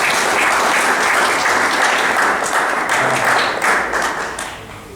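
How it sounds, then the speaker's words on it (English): Audience applause at an architecture lecture event in Nepal, welcoming a speaker: a dense, steady wash of many hands clapping close by, loud throughout and tapering slightly toward the end, with no talking. "Please give him a huge applause."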